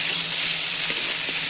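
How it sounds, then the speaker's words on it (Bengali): Food frying in a pan sizzles in a loud, continuous hiss, with a few faint clicks from stirring and no talk. "ভাজা ভাজা করলাম"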